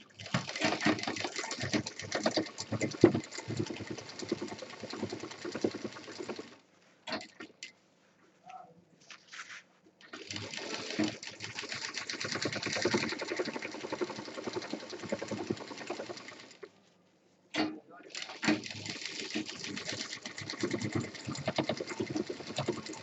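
An electric sewing machine stitches a zip onto a handmade fabric bag, running in long continuous whirring bursts that stop briefly twice before starting again, close and alone.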